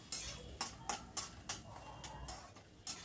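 Spice paste being stirred continuously in a pan for a bitter gourd and raw egg dish, heard as a steady series of close, sharp scraping strokes of spoon against pan roughly every third of a second over a soft sizzle.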